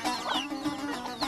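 Chickens and roosters clucking and calling close by while being fed grain, several overlapping bird voices over a steady low hum.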